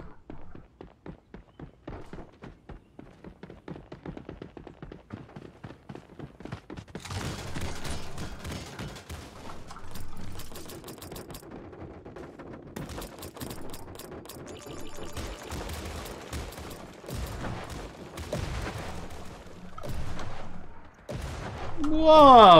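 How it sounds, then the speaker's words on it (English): Rapid bursts of gunfire and blasts in the game Creative Destruction, clicking steps early on, then heavier booming explosions and rattling volleys building louder toward the end. "Whoa, explosions everywhere, guys."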